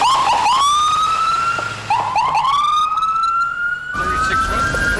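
Big, loud Wishard ambulance siren on a city street, wailing up and down in rising sweeps close by, with no talk over it.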